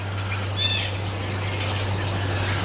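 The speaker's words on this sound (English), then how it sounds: "those birds are really talkative this morning" Several birds chirp and twitter in quick, overlapping calls, fairly close, over a steady low electrical hum.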